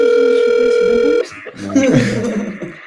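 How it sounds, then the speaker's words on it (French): A phone call's ringing tone sounds as a steady tone for about a second, then cuts off into muffled handling noise and a faint voice as the line connects. "On va appeler Laurent. Laurent qui est CEO. Appelle"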